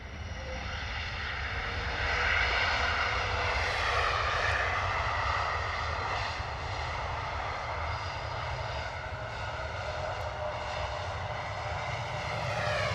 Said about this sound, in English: EasyJet in from Istanbul, A321neo.